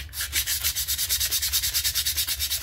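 Sandpaper rubbed by hand over a variable speed pulley from a Troy-Bilt mower, a steady rhythmic scratch repeating about eight times a second, close and alone.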